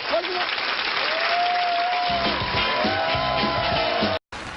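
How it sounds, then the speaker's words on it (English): Steady crowd applause for Christopher Hitchens fills the television studio, with scattered whoops and cheers rising over it, cutting off abruptly near the end. "A round of applause for Christopher Hitchens."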